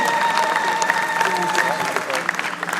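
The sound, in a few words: applause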